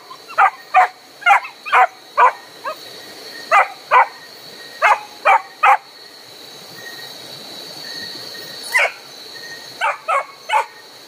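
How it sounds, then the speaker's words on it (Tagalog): Dogs bark outdoors in loud, close bursts, quick runs of sharp barks separated by brief pauses, continuing for about eleven seconds. "Ayong mga aso po ni Timo na."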